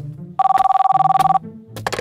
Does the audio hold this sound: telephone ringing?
yes